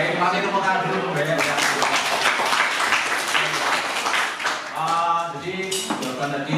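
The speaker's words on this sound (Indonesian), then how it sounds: "masih tepuk tangan dulu ya" Applause in a school classroom, a steady wash of many hands clapping through the whole stretch, with voices talking over it at moments.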